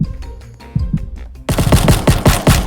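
Rapid bursts of video game gunfire, a few scattered shots at first and then a dense, loud volley of repeated shots, no talking.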